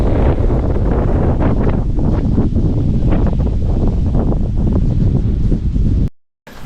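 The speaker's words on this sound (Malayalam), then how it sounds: "കാറ്റ് എന്ന് പറഞ്ഞാൽ അന്യായ കാറ്റ്." Loud, constant wind buffeting the microphone at the Ilaveezhapoonchira hilltop in Kerala, roaring and gusting for several seconds before a brief dropout near the end.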